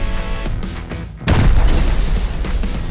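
A heavy explosion booms during a base raid in the survival game Rust, hitting suddenly after a quieter stretch and rolling on as a loud, deep rumble.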